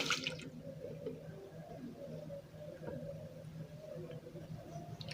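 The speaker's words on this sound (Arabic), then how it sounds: "هنبدأ نحط اللبن المشبر معانا اهو" Soured milk poured into a bowl for homemade two-ingredient mayonnaise gives a faint, steady liquid trickle lasting several seconds, with quiet background noise throughout.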